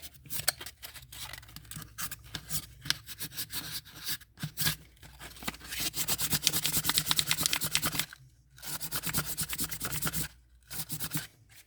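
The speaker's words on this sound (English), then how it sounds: "I'm going to get the sandpaper. I can get it off with the sand." Sandpaper rubbing back and forth over painted terra cotta, a steady scratchy scraping in rapid strokes with a few brief pauses, close and fairly loud.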